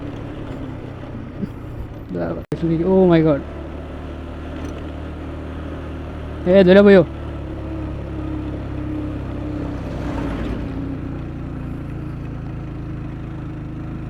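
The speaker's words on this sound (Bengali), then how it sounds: "ইঞ্জিন ব্রেক করে গাড়ি নামাইতেছি।" A motorbike engine-braking down a very steep hill road in the Khagrachari and Sajek hills gives a low, steady engine rumble throughout, broken by two short excited shouts from a rider.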